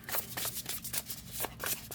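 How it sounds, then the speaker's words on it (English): Overhand shuffling of a tarot deck, a steady run of soft papery riffles and slaps of cards sliding over one another, close and quiet with no talk. "And overhand shuffle is great."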